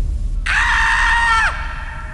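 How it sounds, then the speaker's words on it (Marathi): One loud, sustained scream sound effect in a horror tale, a shrill held cry of about a second that bends downward at the end, heard alone without speech. "तसाच आवाज हा अक्षयला पुन्हा आला ओरडण्याचा."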